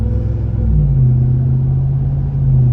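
A 702 hp RAM TRX pickup truck drives with a loud, deep engine rumble that holds steady and climbs slightly in pitch, heard from inside the cabin with no talking.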